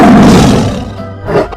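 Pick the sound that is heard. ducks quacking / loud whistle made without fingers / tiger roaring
tiger roaring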